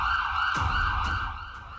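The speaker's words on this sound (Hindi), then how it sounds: "आप सुन सकते हैं कि यहां पर सायरन बज चुका है" A loud, steady air raid siren wails continuously on a sustained tone, slightly wavering, with a low rumble of background noise underneath, on the Rajasthan border with Pakistan.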